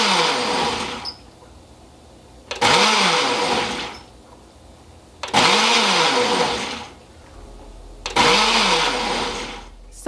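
A Ninja 1100-watt professional blender runs with a Nutri Ninja cup in four loud bursts, each whirring pulse spinning up sharply and winding down before a short pause.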